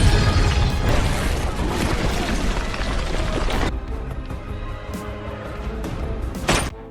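A sticky bomb blast in the film Salt: a dense, roaring boom with crashing debris that lasts several seconds, then thins into a lower rumble and ends in a sharp final crack.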